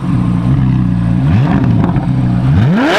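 A performance car that reaches 60 mph in under three seconds launches hard, its engine revving loudly and rising in pitch through several quick gear changes, close and continuous with no talk.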